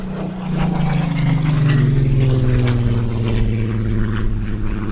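A Spitfire 18 flies an airshow display, its piston engine a loud, sustained propeller drone with a slowly falling pitch as it passes fairly close overhead, alone without voices.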